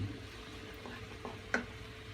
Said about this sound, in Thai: เดี๋ยวเราผัดพริกแกงให้แห้งก่อนนะครับ